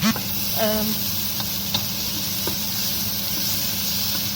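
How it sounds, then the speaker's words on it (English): Steady hiss of chilies sizzling in a hot frying pan for fajitas, continuous and close, with faint clinks of stirring and no talking. "this can just stay on hot and do its sizzling thing"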